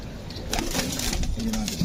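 A male Teddy pigeon, a Pakistani fancy breed, coos in low, soft rolling notes through the middle of the clip, with faint background noise and murmuring around it.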